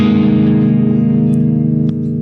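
Electric guitar ringing out through a reverb effect, a sustained chord with a long, lush, echoing tail that slowly decays, loud and close with no voices.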